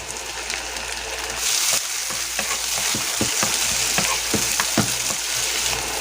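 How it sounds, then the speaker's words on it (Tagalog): Onion, garlic and tomato sauté in hot oil, giving a dense, continuous sizzle. Frequent scraping stirs of a utensil in the pan cut through it, close up, with no talking. "Gisa natin yung sibuyas, bawang, kamatis"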